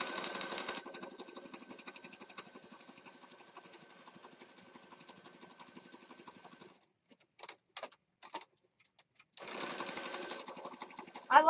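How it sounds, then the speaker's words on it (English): A sewing machine stitches around the outside edge of a junk journal page with a steady, close mechanical whirr. It stops, gives a few short bursts, then starts running again. "we'll just stitch around the outside edge"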